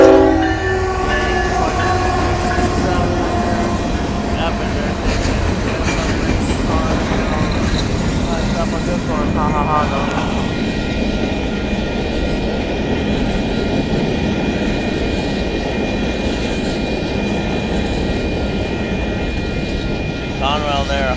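A northbound Union Pacific mixed freight train passing a road crossing in Austin, Texas, loud and close, its horn blaring early on before the steady rumble and clatter of rolling cars carries through, with people talking over it.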